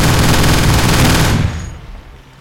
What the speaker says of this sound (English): Why not we shoot a couple of zombies with it?